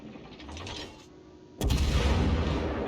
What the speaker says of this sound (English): He fired his guns again